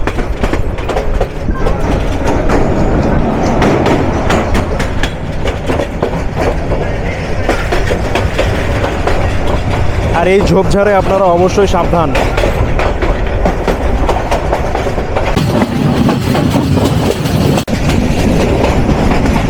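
The 782 Kishoreganj Express, a passenger train on the Kishoreganj to Dhaka line in Bangladesh, rumbles loudly along the rails with steady clickety-clack and a brief metallic wheel whine midway. Someone talks over the running noise.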